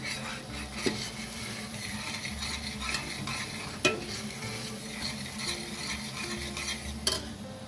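Garam masala and chilli stirred in a pot for a khari yoghurt curry: a steady sizzle with a few sharp spoon knocks against the pot, no talking.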